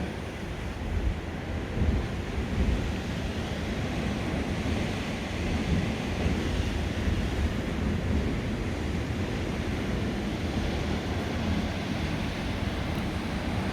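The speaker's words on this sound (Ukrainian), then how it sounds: "балкон виходить прямо сюди на море і чути, як море шумить" Steady roar of Mediterranean sea surf washing onto a sandy beach at Cales de Mallorca, heard from a seafront balcony, continuous and fairly loud, with wind rumble and no voices.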